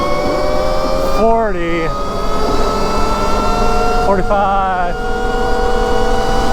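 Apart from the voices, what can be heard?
Rexx T01 electric motorbike accelerating at full throttle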